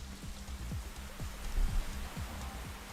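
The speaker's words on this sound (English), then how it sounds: "Even individual raindrops on the floor, guys." Rain and individual raindrops patter on the ground in the racing game Assetto Corsa, a steady soft hiss with scattered drop ticks, faint and continuous with no talking.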